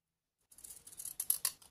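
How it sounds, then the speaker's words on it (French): Decorative torn-effect scissors snip through paper for a Victorian-style junk journal, a quick run of close, crisp cutting crunches lasting about a second after a moment of silence. "Je vais d'abord le découper avec mes ciseaux"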